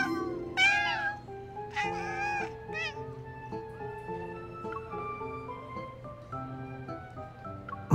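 Cats meow repeatedly in the video game Love & DeepSpace, several distinct close meows over a soft musical background, with the first few prominent and later ones quieter.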